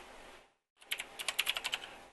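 Keys clack on a computer keyboard in a quick run of about a dozen crisp taps after a short pause, close and fairly quiet, as a web image path is typed into code.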